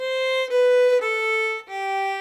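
Four sustained bowed violin notes, clear and close, step slowly downward one after another with smooth breaks between them, played with a low second finger in a beginner minuet.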